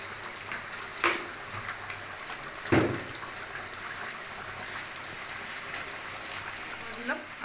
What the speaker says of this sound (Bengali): আজকে সকাল থেকে বৃষ্টি হয়েই যাচ্ছে